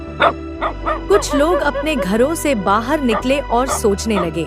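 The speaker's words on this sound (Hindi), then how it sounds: "लेकिन कुत्ते भौंकते ही रहे।" Several village dogs bark repeatedly at night, yapping along under a continuous narrating voice.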